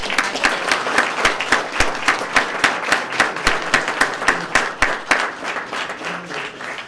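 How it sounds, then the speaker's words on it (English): Steady audience applause at a Sarasota police swearing-in ceremony, many hands clapping in a dense, rhythmic patter that holds at an even, fairly loud level throughout without talk. "Let's give him a big round of applause."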